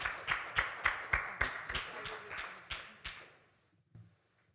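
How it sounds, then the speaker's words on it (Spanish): Audience applause for a guest doctor at a medical conference on pandemics and vaccines: a burst of rapid clapping that thins into scattered claps and dies out. "un aplauso, por favor, para el señor"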